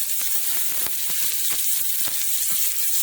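Onion frying in about five tablespoons of hot oil left from frying chicken wings, in a heavy pot. A loud, constant close sizzle with faint crackles and a few soft ticks.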